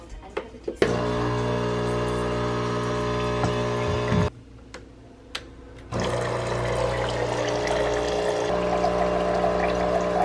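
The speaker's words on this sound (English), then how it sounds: "So we are currently descaling the machine." A coffee machine runs its descaling cycle, a loud steady pump hum with water forced through, stopping briefly and then starting again; a few clicks come at the start.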